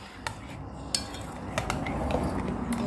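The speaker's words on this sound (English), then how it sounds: "Make sure you stir it very, very well." A spoon clinks and scrapes inside a container while popsicle mixture is stirred, with several light metallic taps over a steady soft swishing background, close and fairly quiet.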